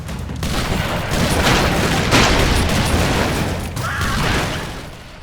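Shotgun fire in the video game Broforce, a loud dense barrage of booming blasts and explosions running continuously, heavy and crowded.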